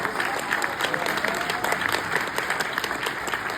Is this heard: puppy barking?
no